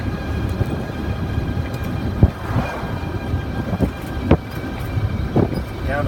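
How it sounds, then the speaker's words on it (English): Atlantic Coast boat coasting in neutral after the throttle is eased, a steady low rumbling engine and hull drone with a wavering, oscillating character and a few sharp knocks scattered through it. "You hear that oscillating noise."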